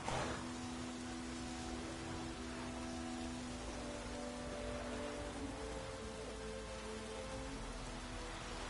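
Heavy rain pouring in the video game The Witcher 3, a steady hiss of falling water with faint tonal game sounds underneath, continuous throughout and free of talk.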